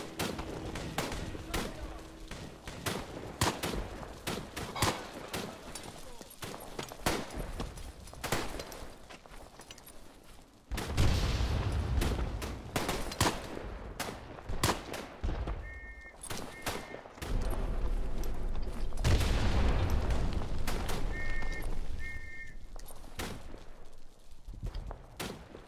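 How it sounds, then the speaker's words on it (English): Mortar rounds pounding a dugout in the WWI shooter Tannenberg, with heavy booming impacts around the middle and later, amid scattered gunfire and constant battlefield noise, occasional voice chatter mixed in. "Dropping again mortars on that dugout"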